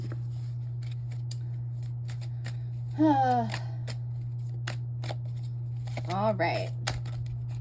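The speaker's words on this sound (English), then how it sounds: "Make sure I get a good ass shuffle on these." Tarot cards being shuffled close up in a quiet room, with two quick riffling bursts of card flutter over a steady low electrical hum, one short spoken word in between.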